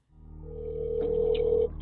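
A telephone being used to dial 911 gives a steady, rising electronic tone that holds for over a second, followed by a few short keypad beeps near the end.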